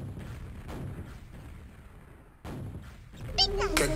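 Rocket fire in a QuakeWorld one-on-one tournament match, with several booming blasts and a sharp burst near the end, heard under fast, excited commentary.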